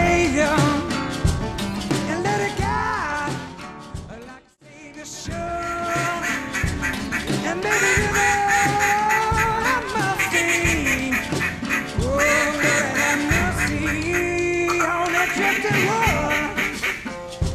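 An Xciter Vintage Timber duck call is blown in a long run of quacks, loud and close, with a short pause near the start and then continuous calling.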